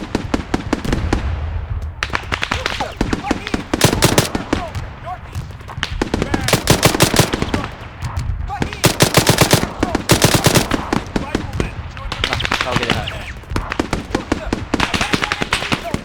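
Rapid bursts of automatic gunfire in the Arma 3 military shooter game, dense crackling volleys repeating over several seconds, loud and close with brief gaps between runs.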